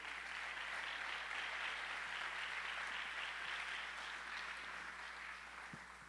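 A church congregation applauds the Lord during a Spanish-language sermon, a steady, fairly faint wash of many hands clapping from across the room that holds evenly and tapers slightly at the end.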